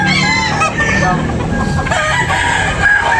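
A rooster crows loudly nearby at a chicken market, with clucking fowl and a murmur of background voices around it.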